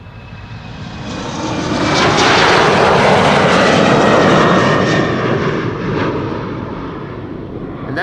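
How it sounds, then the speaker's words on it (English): An Embraer 195 jet airliner takes off at Amsterdam Schiphol Airport, its broad engine roar swelling to a loud peak and then slowly easing as it climbs away, heard alone. "And that takeoff looked very polished. It is an Embraer 195"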